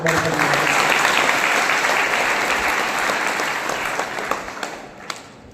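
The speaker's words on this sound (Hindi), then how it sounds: "माननीय मुख्यमंत्री जी के लिए जरा जोरदार ताली बजा दो" An audience at a student and guest honouring ceremony gives the chief minister a loud burst of applause that holds strong, then thins out into a few last scattered claps.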